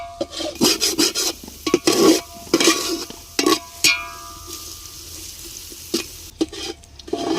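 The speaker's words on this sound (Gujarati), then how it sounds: "હલાવ થોડું એટલે આ મસાલા બધા શેકાઈ જાય મિક્સ થઈ જાય" Spices being stirred and roasted in a pan for masala pulao: bursts of rough scraping and rasping from a spoon against the pan, close and uneven, with quieter sizzling gaps between strokes.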